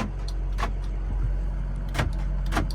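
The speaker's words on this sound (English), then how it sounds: "Okay, door locks." Power door locks on a 2005 Ford F250 Sport 4x4 Powerstroke diesel pickup actuate in a few short, sharp clunks, close by over a steady low cab hum.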